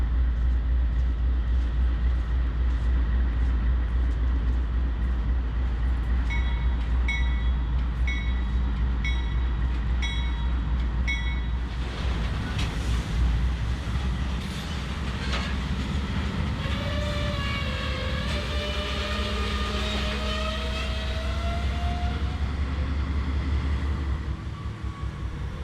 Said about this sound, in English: the waiter trundled in with the all-rail loads